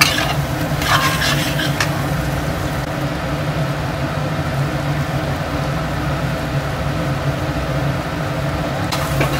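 Kasuri methi and Kashmiri red chili frying in a pan, a steady broad sizzle with some stirring scrapes, loud and continuous with no talk.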